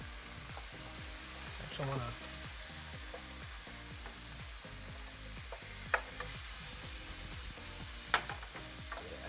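Chorizo sizzles and fries in a hot pan while a utensil scrapes and breaks it apart, with steady crackling, a few sharp clicks, and a brief word spoken over it.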